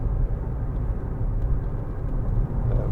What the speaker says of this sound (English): A little bit of tyre noise,